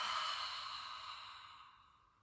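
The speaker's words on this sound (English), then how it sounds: "Hold the breath. And blow it out the mouth." A slow, steady exhale blown out through the mouth during a guided yoga breathing exercise, a soft breathy rush that starts fairly strong and tapers away over about two seconds, close and alone.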